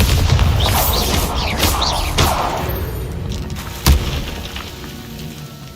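A Bombarda spell explosion in the video game Hogwarts Legacy: a loud rumbling blast that decays over several seconds, with a sharp crack near the end.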